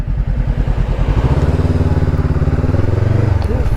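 Honda CB500X 500cc motorcycle engine running steadily while riding, a loud continuous low drone with a brief pulsing rhythm at the start, heard close.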